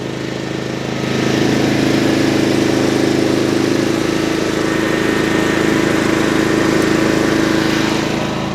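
A generator engine runs steadily on a small farm with Brown Swiss cattle, a loud, close, continuous mid-pitched drone that rises after a moment and then holds without a break.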